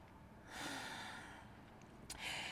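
Final breath held in a yoga arm-balance sequence, a soft breathy exhale followed by a brief sharper intake, close and quiet.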